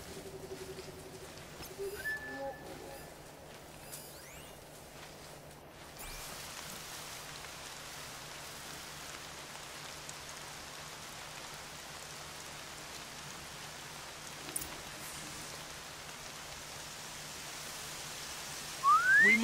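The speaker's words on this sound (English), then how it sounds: "More rain." Steady rain from the video game Horizon Zero Dawn patters evenly throughout, with a few faint clicks and chirps early on and a brief sharp sound at the end.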